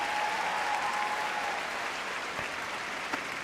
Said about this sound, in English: Big round of applause for Ernie.